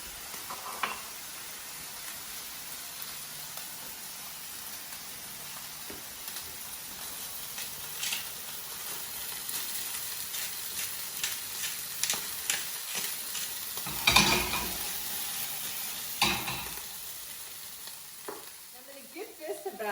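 A steak sears in hot oil in a pan under loosely laid tin foil, giving a steady soft sizzle with scattered pops and a few louder crackling bursts, close and with no talk.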